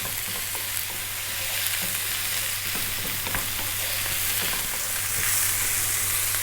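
Vegetable fried rice with ginger garlic paste and curry spices stir-fries over high heat, giving a constant dense sizzle with frequent small scrapes and clinks as it is kept moving, and a low steady hum underneath.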